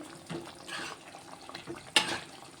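Potato chicken curry simmering in a pot gives a soft, steady bubbling and watery burble, with a brief sharper splash or clink near the end, fairly close and quiet.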